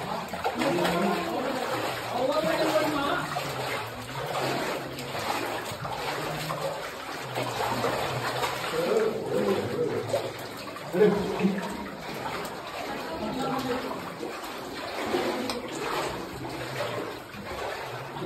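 Water flowing through a rocky hillside cave with many tunnels, a steady rushing, splashing wash heard up close for the whole stretch.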